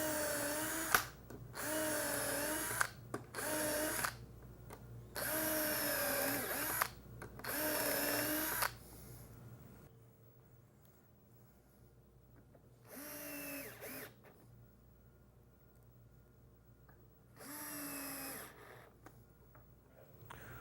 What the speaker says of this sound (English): holding the hinge in place, we're just going to pre-drill for our screws